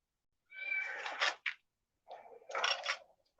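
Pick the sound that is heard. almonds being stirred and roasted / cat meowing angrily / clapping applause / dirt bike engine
cat meowing angrily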